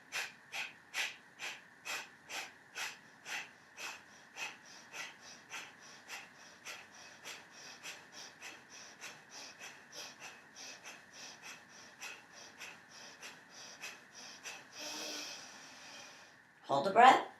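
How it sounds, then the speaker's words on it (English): Breath of fire yoga breathing, a long run of rapid rhythmic nasal exhalations, about two per second, close and fairly soft, ending in a deeper inhale and a louder held-breath release. "And then start the breath of fire."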